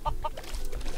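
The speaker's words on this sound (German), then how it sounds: "Das Huhn badet." A couple of short, quick clucks from a chicken in Minecraft, followed by softer chatter and low background noise.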